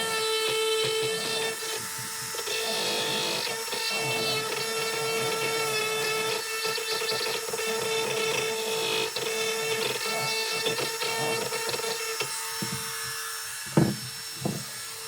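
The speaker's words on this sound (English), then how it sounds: "After just a brief little session of doing some shaving down of our part, we're able to bring it to a really good starting point for us." A rotary tool shaving down a rebuilt plastic tab gives a steady, high-pitched whine with bright overtones, running almost without pause before a few short bursts near the end.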